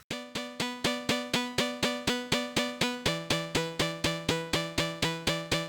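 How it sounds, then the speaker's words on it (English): A Serum preset synth arpeggio pulses in fast, even, bell-like plucked notes, bright and percussive. Partway through it shifts to a lower set of pitches and keeps the same steady rhythm, alone and clear. "So I added an ARP, which is a serum preset."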